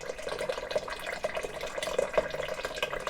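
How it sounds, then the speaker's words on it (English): Cold water runs and splashes steadily into a saucepan of potatoes, a soft, continuous gurgling pour heard close up. "Add 1/2 teaspoon of sea salt and enough cold water to cover the potatoes."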